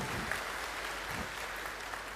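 Steady crowd applause from an audience at a Kham Ku 8th anniversary celebration in Panglong in 2019. Dense, even clapping continues for the whole stretch with no voices above it.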